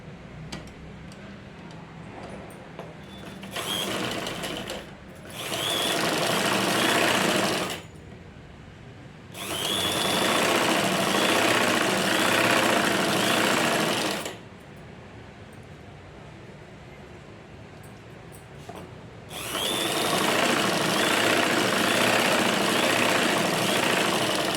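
A sewing machine stitches a lined blouse in three long bursts, with pauses between them. The runs sound steady and mechanical and carry close to the listener, and no one speaks.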